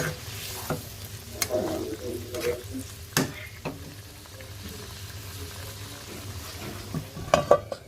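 Prawn bhuna frying in a pan after green chilies go in, a steady close sizzle with stirring scrapes and a few sharp clinks of a spoon against the pan throughout.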